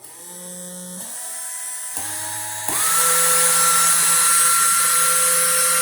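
A homemade electric ducted fan driven by a 12V RS360 motor in a larger housing with a larger fan whines at a high pitch, stepping through a few speed changes before settling into a loud, steady rushing whir.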